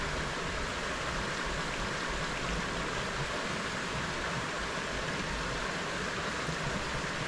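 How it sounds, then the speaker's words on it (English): Steady broadband rain hiss outdoors beside a river, continuous and even throughout with no pauses, heard on its own without voices. "this rain is on and off"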